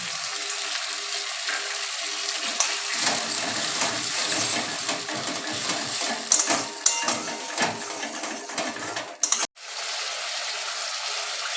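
Tomato puree from two pasted tomatoes frying in a pan, a steady loud sizzle that runs throughout with faint clinks, then cuts out sharply near the end before resuming.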